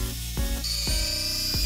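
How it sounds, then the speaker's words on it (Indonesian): A grinder sands a glued wooden cutting board of maple, beech and sonokeling, giving a continuous high abrasive whine broken by three short drops in pitch as the tool shifts against the wood. "saya lakukan pengamplasan menggunakan mesin gerinda"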